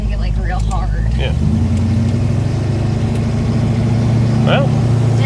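A Pontiac fitted with a big block Chevy engine drives along, its loud steady rumble holding throughout with a deeper, heavier tone after the first second, while voices talk briefly over it.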